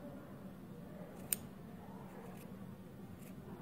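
Scissors snip notches into the fabric seam allowance of a quilted Santa Bear doll, a single crisp close cut followed by a couple of fainter snips against a quiet room hum.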